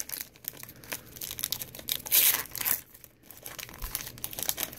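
Foil wrapper of a Panini Prizm basketball card pack crinkles and tears open up close, with sharp irregular rustling and one louder ripping burst, no talking.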